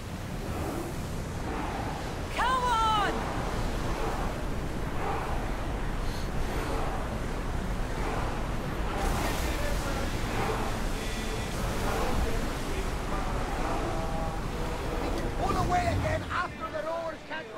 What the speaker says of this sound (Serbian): Koliki talas je, evo te.